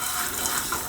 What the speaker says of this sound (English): Let's just see what this shoe look like after we spray this one down too.